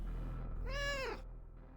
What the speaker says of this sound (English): Where'd that cat sound come from? I heard a cat.